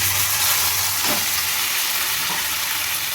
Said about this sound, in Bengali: আমি মিক্সিতে যে মশলাটা পেস্ট করে রেখে দিয়েছিলাম সেটা আমি দিয়ে দেবো কড়াইতে